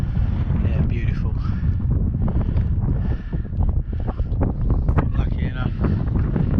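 Steady wind buffets the microphone across open limestone moorland and pavement on a coast-to-coast walk, a continuous low roar with gusty rumble and no other sounds standing out.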